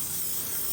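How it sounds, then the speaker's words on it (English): Spray adhesive hisses steadily and close-up onto board pieces for a car boot setup, one continuous burst with no pauses. "just keep spraying until you feel like that's enough, and then slap the two together"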